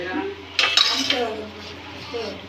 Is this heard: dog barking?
no